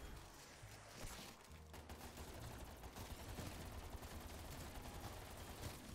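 Gunfire in a Call of Duty zombies match as players shoot at a mimic enemy, a dense, continuous stream of rapid shots with steady loudness throughout, mixed into game noise with no talking.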